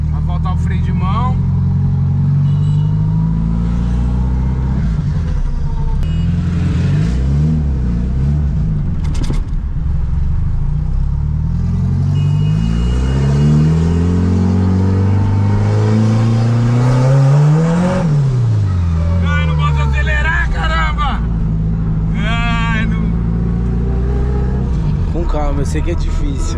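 Turbocharged VW Gol engine revving repeatedly in short bursts, rising and falling pitch sweeps up close, with someone talking over it throughout.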